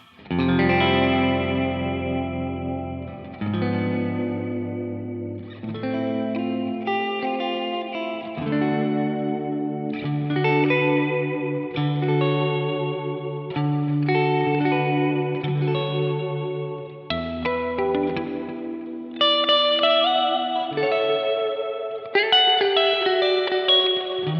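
An electric guitar plays sustained chords and notes through a plate reverb effect, each ringing out into a smooth, shimmering reverb tail.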